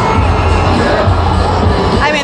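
A dense parade crowd cheers for Tom Brady at the Patriots' Super Bowl victory parade, a loud, continuous roar of shouting and babble close at hand, with some voices rising above it.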